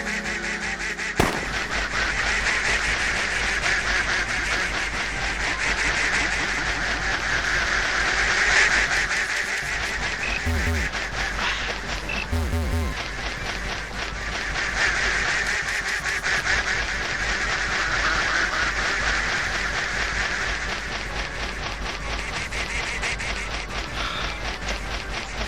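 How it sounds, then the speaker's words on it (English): A flock of ducks in a video game quacks and honks continuously in a dense, overlapping chorus at steady loudness, with a few brief thuds standing out. "Here's a friendly group of ducks having fun in the meadow."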